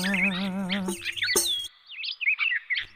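Bright high bird chirps and tweets from a puppet-theatre bird, rising and falling in quick warbling bursts after a short sung tone, close and clear with brief pauses between calls.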